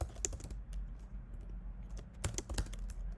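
Quiet, steady clicking of a computer keyboard as Java code is typed, with scattered sharper keystrokes over a low background hum.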